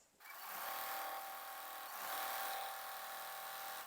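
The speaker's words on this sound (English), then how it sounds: "So I'm just going to go ahead and sew it." A sewing machine runs continuously, stitching a quilt block for a flowering quilt pattern, its steady motor drone and needle whir close and even throughout.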